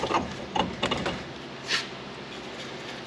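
A ratchet clicks in short quick bursts while tightening bolts on an axle flange of a 1987 Toyota 4x4 pickup, several clustered rattles early and one more a moment later, over a quiet garage background.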